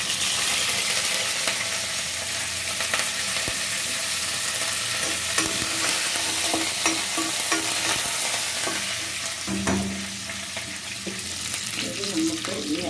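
Curry leaves dropped into hot oil in a pan for a ginger curry, giving a continuous loud sizzle and crackle up close, with some stirring scrapes and a faint voice near the end.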